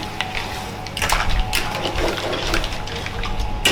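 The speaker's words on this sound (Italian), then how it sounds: "Per completare un po' di acqua di cottura sempre." Starchy pasta cooking water pours into a pan of bigoli with mussels in a restaurant kitchen, a steady close splashing gush with light clinks.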